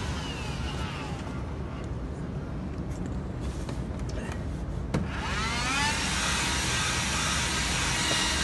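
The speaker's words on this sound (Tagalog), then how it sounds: "Gamitan natin ng vacuum." A vacuum cleaner runs steadily while cleaning the interior of a Tesla car, a constant loud whooshing drone with a rising whine and shifting pitch as the nozzle moves, and a brief knock partway through.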